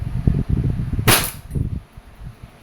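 A single sharp shot from a DB 1911 MEU airsoft pistol cracks out over low background chatter and handling noise.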